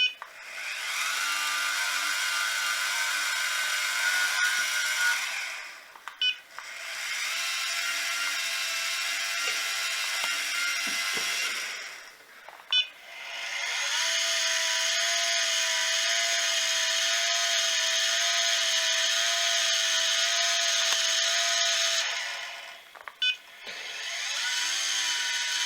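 An iOptron Smart EQ telescope mount's motor drive runs at the hand controller's highest slew speed, giving a steady mechanical whir in long stretches broken by brief pauses. No one speaks.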